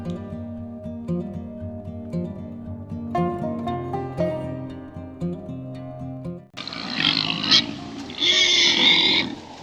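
Nine pigs in a pen, first heard faintly under a dense music layer, then loud close grunting and oinking bursts with wind noise over the final few seconds.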